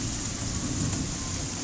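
Heavy rain from a thunderstorm in Canada hisses steadily and close, a dense, unbroken downpour with a low rumble underneath and no voices.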